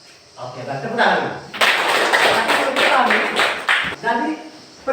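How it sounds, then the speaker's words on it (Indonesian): Classroom students clap their hands together in a loud, dense burst that starts after a short spoken phrase and carries on for several seconds, with voices mixed in. "tepuk tangan"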